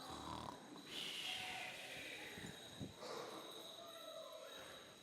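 A voice imitates snoring with a few drawn-out, rumbling snorts over a faint background hum, fairly quiet.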